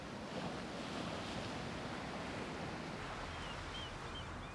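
Waves break steadily along the North Sea coast at Harwich, a dense continuous wash of surf mixed with gusting wind buffeting the microphone, loud and unbroken throughout.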